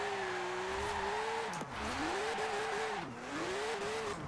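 The rarest Porsche in Forza Horizon 4, its engine screaming at very high revs as a steady tone. The pitch drops briefly at gear changes and then climbs again, loud and continuous throughout.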